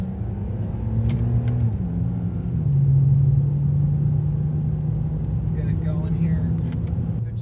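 A 2011 BMW 328i driving through corners and up a hill, its engine a steady mid-pitched drone with a rising hum and tire and road rumble underneath, loud and continuous with faint background noise.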